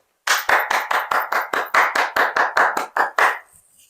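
A single pair of hands claps about fourteen times in a steady, fairly quick rhythm, each clap sharp, close and loud against silence, then the claps stop.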